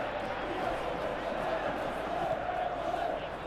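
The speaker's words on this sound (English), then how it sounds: "The matchday noise at this place is truly special." Dense, steady roar of a large stadium crowd before a tournament match, a continuous wash of voices without distinct words, loud and unbroken throughout.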